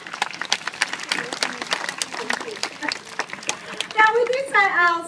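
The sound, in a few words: zoo bird show audience clapping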